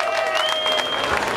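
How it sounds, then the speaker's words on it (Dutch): A crowd claps steadily for the girls' category 7 and 8 podium at a community award ceremony in Almelo, with a thin whistle-like tone running over the dense, even applause. "Een enorm applaus voor het podium van de categorie 7 en"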